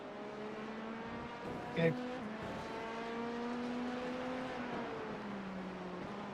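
Race cars (GTP, GT3 and LMP2 prototypes) pass at Watkins Glen, their engine tones droning and sliding in pitch at moderate distance, with a brief spoken word near the start.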